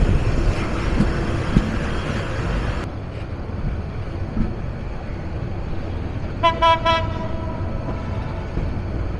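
The Turna Express on the Chittagong route rumbles steadily along the tracks, loud close wheel and carriage noise that drops a little after a few seconds, then a brief multi-tone horn blast sounds near the end.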